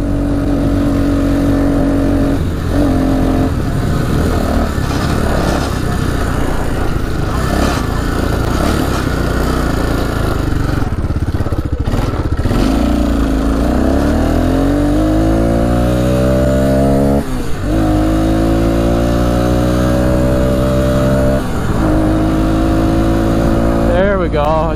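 A small ATV engine with a partly clogged exhaust revs continuously, sputtering and bogging at first, then climbing smoothly in pitch as it picks up speed, loud and close.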